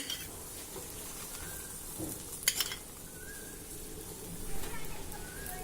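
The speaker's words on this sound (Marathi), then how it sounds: "हे बघा हा पराठा दोन्ही बाजूनी छान खमंग भाजून झाला" Paratha roasting in ghee on a pan, a soft continuous sizzle with occasional light scrapes and clinks, close but quiet, with a voice talking over it at times.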